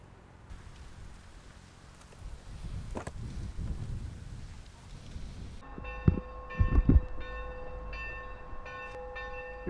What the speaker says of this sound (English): You hear a ringing bell?